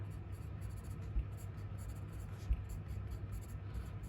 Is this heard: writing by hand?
yes